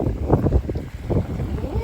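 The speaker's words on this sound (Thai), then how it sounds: "ลมแรงค่ะพี่น้อง" Strong wind at a seashore buffets the microphone in uneven low gusts, swelling and dropping throughout. A voice is faintly present beneath the roar.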